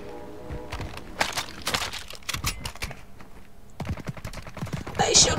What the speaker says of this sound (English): No, they shooting at me.